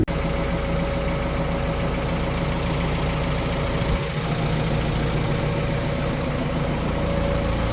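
A steady, droning tractor engine idles continuously at close range, a low mechanical rumble with no speech, dipping briefly midway before settling back to the same hum.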